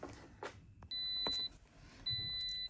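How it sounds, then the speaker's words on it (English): A Toyota GT86 sports car gives two sustained electronic beeps, each lasting around half a second or more, with quiet clicks and handling noises in the cabin between them. "stop the beeping"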